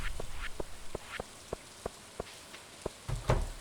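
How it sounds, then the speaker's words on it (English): Rain falls steadily in the Stardew Valley farming game, a soft hiss under evenly spaced, regular ticking drops, with a brief louder rustle near the end. "the rain in the valley is..."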